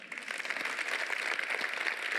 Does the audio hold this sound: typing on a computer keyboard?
no